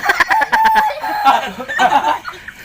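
Chickens clucking close by in a rapid, uneven series of calls, loud and busy throughout with a few squawky notes mixed in.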